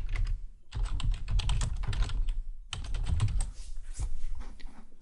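Quick bursts of clicky keystrokes on a computer keyboard while a folder name is typed, close and fairly loud, with a short pause between two runs of typing and no talking.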